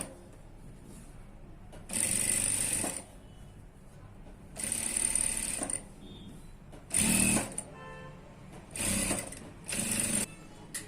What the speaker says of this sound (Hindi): हम अब इसको गले को लगाएंगे और आपको दिखाएंगे कि किस तरह से स्टिचिंग करते हैं।